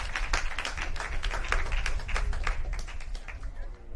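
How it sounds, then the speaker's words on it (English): Football crowd at a St George FC v UNSW FC NPL Men's NSW match clapping for a substitute coming on, distinct individual claps in a steady rhythm, moderately loud and close, with no talk. "Getting a strong clap from the crowd."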